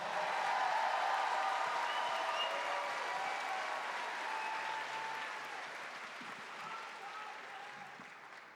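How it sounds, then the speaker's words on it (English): Sustained applause from a theatre audience at a gathering at the Paramount Theatre in Seattle, loud and dense at first, then slowly easing off over several seconds with no talk on top. "Round of applause for Julian NoiseCat."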